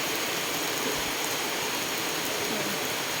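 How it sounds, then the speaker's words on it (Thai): Heavy rain pours down steadily at a rural Thai house, a dense, even hiss filling the whole stretch with no voices. "ฝนตกค่ะฝนตกแรงมาก"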